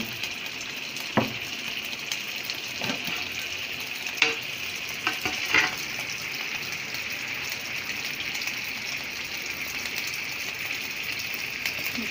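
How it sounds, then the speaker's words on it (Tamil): Water boils in a cooking pot for seer fish biryani, giving a steady bubbling hiss with a few faint metallic clinks, heard alone without talking. "இப்போ பாருங்க தண்ணி வந்து நல்லா கொதிக்க ஆரம்பிச்சிடுச்சு"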